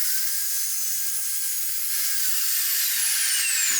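Metal stock clamped against a material stop is cut by a saw in a welding shop, giving a steady, loud, high hiss-like whine that runs without a break before stopping abruptly.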